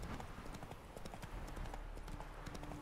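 Horse hooves galloping in The Witcher 3, a rapid steady clip-clop of hoofbeats running continuously, close and even, with only faint background game sound.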